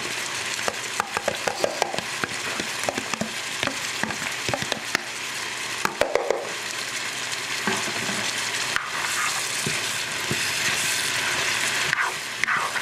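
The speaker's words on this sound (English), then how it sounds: "now we're gonna just push everything over and I'm gonna add our onions" Onions tossed into a pan of browning beef for beef stroganoff fry with a steady, close sizzle, broken by frequent sharp scraping and stirring clatters throughout.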